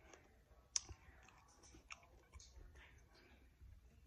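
Close, quiet chewing of hot peppers pickled three weeks in vinegar, with crisp crunching and clicks, a few sharp bites standing out against a soft, steady background.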